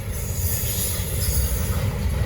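A Norfolk Southern M54 freight train rolls past close by, a steady heavy rumble of wheels and cars with high metallic squeal and hiss over the top, continuous throughout.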